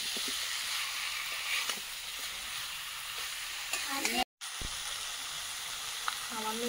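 Potatoes sizzle steadily in a pan over a wood fire on a clay stove, with continuous frying hiss and scraping stirs, one brief dropout partway through.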